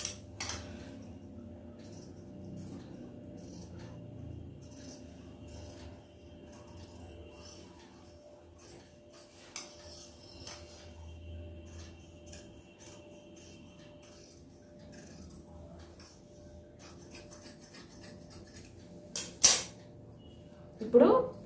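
Blouse cloth being cut for a boat neck back, with faint, sparse scissor snips and small clicks in a quiet room, a few sharper clinks near the end.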